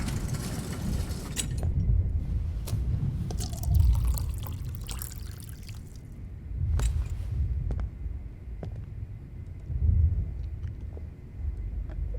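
Water poured in a scene from the video game Life is Strange, a few separate pours and trickles spread out over a low background rumble, moderately loud and close, with no one talking.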